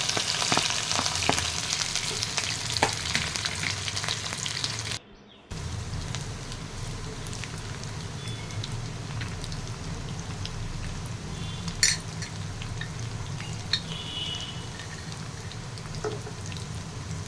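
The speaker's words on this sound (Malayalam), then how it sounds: "ഇഞ്ചി, പച്ചമുളക്, വെളുത്തുള്ളി ഇത് 3 കൂടെ ഇട്ട് ഒന്ന് വഴറ്റി എടുക്കും." Ginger, green chili and garlic sautéing in a pan for a dates pickle, a steady close sizzle with faint stirring scrapes and a brief dropout partway through.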